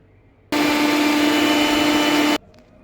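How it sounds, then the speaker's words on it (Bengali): Electric mixer grinder whirring loudly as it blends ginger, green chilli and soaked pea lentils, starting abruptly, running as a steady high-pitched motor hum for about two seconds, then cutting off. "চলো ফার্স্টে মিক্সিতে এটাকে ব্লেন্ড করে নিই"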